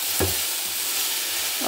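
Vegetable stir-fry sizzling steadily in a hot pan, a loud, continuous frying hiss up close with a couple of soft scraping stirs of the utensil.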